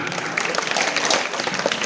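A room full of schoolchildren and guests at an Independence Day school event claps steadily, dense applause lasting throughout without talk.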